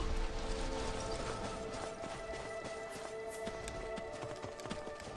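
Horse hooves clip-clop in the video game Skyrim, a steady run of hoofbeats under dense, noisy game ambience, continuous and fairly loud for the whole stretch.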